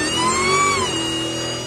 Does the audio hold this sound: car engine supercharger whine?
yes